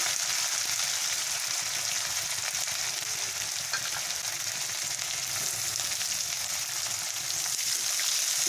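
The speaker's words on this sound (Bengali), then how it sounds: "পেঁয়াজটাকে আমি ভালো করে ভেজে নেব" Chopped onion and green chilies frying in a pan, a steady, close, continuous sizzle that stays even throughout with no talk.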